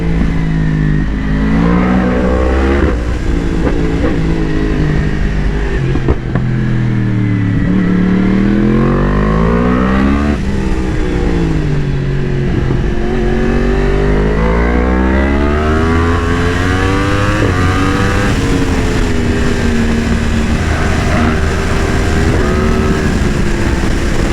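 Remapped Yamaha R1M sportbike accelerating hard along a tight, twisty road, its engine loud and close throughout with repeated rising revs, gear changes and swelling pitch sweeps, no talk over it.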